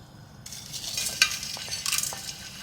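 Whole garam masala spices and julienned ginger fry in hot oil for a beef korma, a steady close sizzle with brief stirring scrapes and a couple of sharper crackles, no talking.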